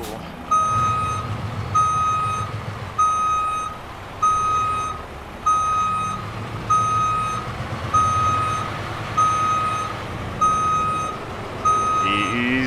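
Truck backup beeper sounding in American Truck Simulator while the rig reverses, a steady loud beep repeating about once per second over the low rumble of the idling engine, with no talk.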